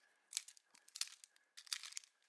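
Trading card booster packs are cut open in a quiet room, with three short bursts of crinkly foil rustling and snipping close by, separated by brief pauses.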